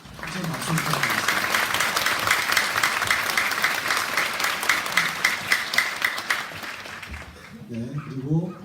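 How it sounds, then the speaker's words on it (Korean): Dense applause from a crowd at a Korean emergency medical technicians' association event, sustained clapping that swells and then tapers off, with a voice speaking briefly before and after. "큰 박수 부탁드리겠습니다."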